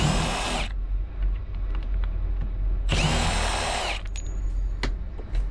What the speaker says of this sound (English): start by removing all the three Phillips screws